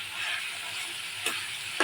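Boiled potatoes and chickpeas go into a hot, oiled pan in a Bengali chickpea curry and fry with a steady hiss, broken by two sharp bursts of sizzle near the end.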